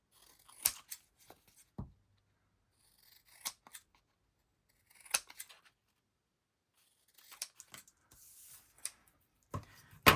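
Scissors trim scrapbooking paper in short, separate crisp snips spaced across a quiet room, close and fairly soft, with no talking.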